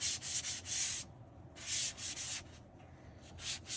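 Sandpaper rubbed by hand on a cabinet surface being prepared for painting, close rhythmic scratchy strokes in short back-and-forth bursts with brief pauses between them.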